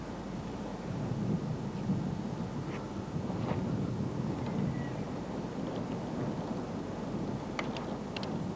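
Wind gusts across the microphone beside the water on a chub and tench fishing trip, a steady rough rumble with a few faint knocks and rustles. Nobody speaks.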